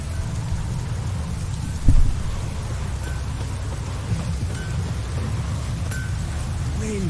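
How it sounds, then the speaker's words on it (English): Steady, loud rain pours in The Witcher 3: Wild Hunt, a continuous wash of drops hitting surfaces, with a short heavier thump near two seconds and no voices. "Rain gives me a powerful hunger."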